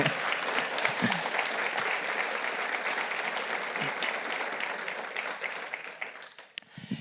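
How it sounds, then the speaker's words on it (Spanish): A church congregation applauds steadily for several seconds, dense clapping that fades slightly toward the end. "denle un fuerte aplauso al Señor"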